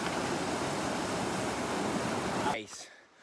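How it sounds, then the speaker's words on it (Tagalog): A river on a trail toward Zamora Falls rushing over rocks from higher upstream: a steady, loud, broadband roar of churning water that cuts off abruptly near the end, leaving a faint quieter tail. "umaragasa yung tubig na nanggagaling doon sa mas mataas na parte ng ilog"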